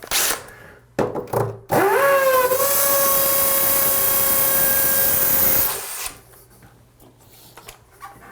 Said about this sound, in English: don't use it on hammer drill. But look how fast that was.